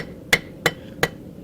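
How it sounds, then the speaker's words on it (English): Three sharp metallic strikes of a smaller hammer on hot steel ring out at an even pace, forging a railroad spike into a cross, each a crisp clang with a brief ring, fairly close with quiet between. "Move down to a smaller hammer for some of the more"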